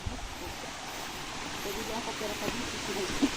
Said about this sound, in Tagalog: Naririnig na natin ng agos ng tubig mula sa batis.